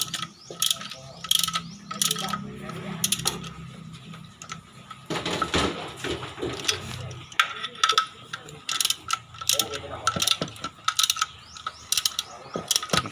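Socket wrench ratcheting in quick repeated clicking bursts while bolts are tightened during a car clutch plate replacement, close up in a workshop, with some mechanical rattling between the bursts and no talking.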